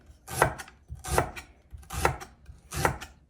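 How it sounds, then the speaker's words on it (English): Knife slicing through fresh ginger on a cutting board for a potato curry, four crisp, evenly spaced cuts about a second apart, each with a short scraping tail, close and fairly loud with no talking. "Slice them"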